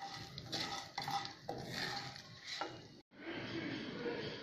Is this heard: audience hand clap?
no